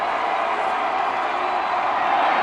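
A high school football crowd, DeForest's home fans, roars steadily at a night game on a big third down, a dense, continuous wash of cheering with a voice faintly present.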